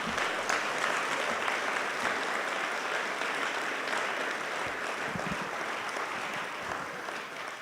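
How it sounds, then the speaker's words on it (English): Audience at an aviation hall of fame investiture dinner and ceremony gives inductees a sustained round of applause, a dense, loud wash of many hands clapping that fades slightly toward the end. "How about one more round of applause for all of our inductees tonight?"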